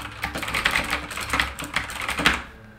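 Typing on a Motospeed CK108 mechanical keyboard with blue switches, a close, rapid stream of clicky keystrokes for a few seconds with no voices.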